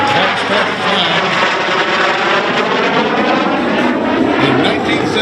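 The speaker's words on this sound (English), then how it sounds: "And here he comes overhead, the L-29 Delphin, flown by Mark Cisolino." An L-29 Delphin jet passes overhead at the 2022 Upper Cumberland Air Fair, giving a loud, continuous engine roar that stays strong throughout with a slowly shifting, whooshing tone.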